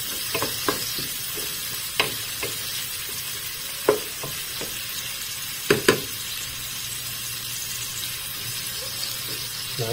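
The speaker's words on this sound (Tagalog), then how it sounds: "Hintayin natin maluto ang kamatis." Tomatoes cooking in a pan for sinigang sa miso give a continuous hissing sizzle, broken by occasional sharp utensil knocks and scrapes, close and steady over ten seconds.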